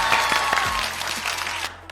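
A small group claps for the winning team in a children's game, a brief burst of scattered hand claps that thins out quickly, with a few lower knocks underneath.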